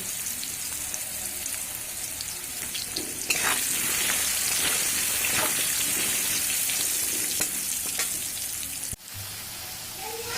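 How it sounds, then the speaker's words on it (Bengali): Potatoes frying in oil with salt and turmeric give a continuous bright sizzle that grows louder after a few seconds, with stirring clatter now and then and a brief break near the end, close up and without speech. "এবার আমি আলুগুলো ভেজে নেব। অল্প একটু লবণ আর অল্প একটু হলুদ দিয়ে ভেজে নেব।"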